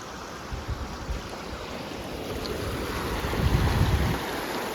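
A river swollen by heavy rain rushes past in a loud, steady roar of churning water, swelling slightly midway, with no voices.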